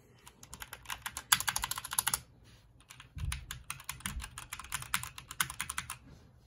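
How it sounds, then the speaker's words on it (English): Typing on a SteelSeries Apex 7 TKL mechanical keyboard with red linear switches and PBT keycaps, close-up bursts of rapid keystrokes with short pauses between, clear and fairly loud, with no talking. "So we got the SteelSeries Apex 7 TKL with the red linear switches and the point keycaps"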